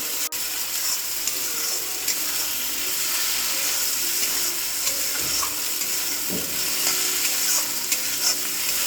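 Tomato dropped into hot oil in a pan while mutton kosha is being cooked, giving a steady, close sizzle and crackle with occasional stirring scrapes and no talking.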